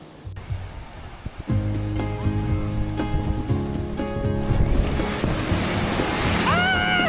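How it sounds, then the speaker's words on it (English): Big waves break and surge steadily on a beach near Charleston, South Carolina, a loud continuous wash that follows a quieter opening with a few faint knocks, and a brief high tone near the end. "The waves are way bigger today."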